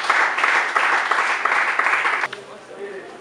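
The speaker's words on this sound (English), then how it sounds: "A round of applause," Applause from an audience at a campus youth conference, a steady wash of clapping that runs for a couple of seconds and then stops abruptly, leaving faint room sound.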